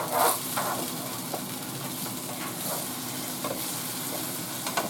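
Onion, fish and cabbage sizzle steadily in a skillet, a continuous close frying hiss punctuated by occasional scraping and tapping of a utensil breaking up the onion.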